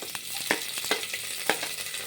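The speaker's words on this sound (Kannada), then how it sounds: "ಚಟಪಟ ಅಂತ ಬರ್ತಾ ಇದೆ" Whole spices crackle in hot oil for pulao, a close, steady sizzle broken by several sharp pops over about two seconds, with no voices.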